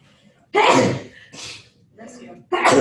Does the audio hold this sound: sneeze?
yes